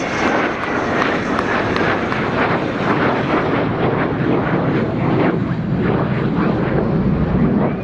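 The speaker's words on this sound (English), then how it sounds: "as the two D-Day F-16s come in above for the break to land." Two Belgian Air Force F-16 jets roar loudly overhead as they come in above the runway for the break to land, a broad continuous jet-engine rumble with wind buffeting at an airshow.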